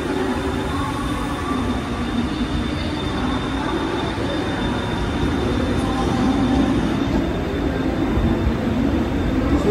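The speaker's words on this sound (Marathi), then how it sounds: "ट्रेन आलेले आहे आमचे" A Mumbai suburban train pulls into a crowded station platform during the Ganesh festival season, giving a loud, steady rumble of wheels and carriages that continues throughout with no speech.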